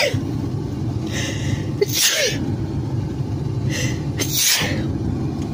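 A person sneezes twice at close range while getting a Covid nasal swab test, each sneeze a sharp burst over a steady low background rumble.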